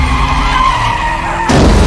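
A car skids with a sustained tire screech, then a short louder impact burst near the end as it crashes into another car, close and loud.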